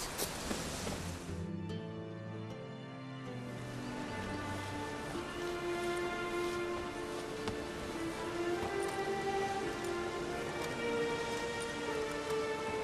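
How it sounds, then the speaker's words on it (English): Steady rain in the video game The Witcher 3: Wild Hunt patters down continuously at moderate volume, with soft tonal music drifting underneath. "The rain will ruin it."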